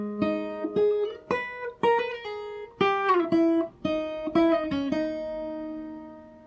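The intro riff of a song comes from a solo fingerstyle guitar, picked single notes and small chord stabs in a bouncing rhythm, close-miked and fairly soft, with the last note left to ring.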